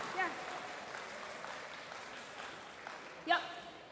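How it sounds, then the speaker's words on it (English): Faint applause from a crowd at a high school homecoming assembly, a low, even clatter of clapping throughout, with a couple of brief louder bursts of voices or cheers near the start and end. "Round of applause."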